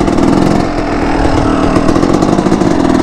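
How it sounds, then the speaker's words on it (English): A dirt bike engine runs loud and close as the clutch is let out, giving a steady, throbbing roar with a rapid firing pulse that holds level throughout. "Let out the clutch slowly, give it throttle."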